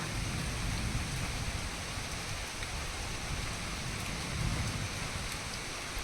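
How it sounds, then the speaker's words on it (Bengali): Rain falls steadily outside at night in a continuous soft, broadband patter that is moderately distant and uninterrupted, with no voices. "শুনেও শান্তি বৃষ্টির আওয়াজটা"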